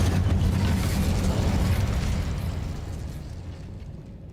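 Cast in Hogwarts Legacy, the Incendio fire spell gives off a roaring, explosive whoosh of flame that is loud at first and then fades gradually over several seconds.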